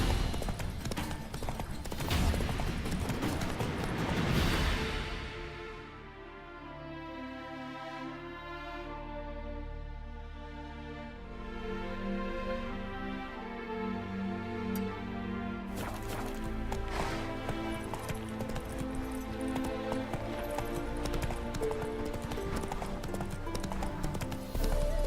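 Roach the horse from The Witcher 3 galloping, steady rapid hoofbeats close up, easing to a quieter stretch and then picking back up, with a snort in the middle.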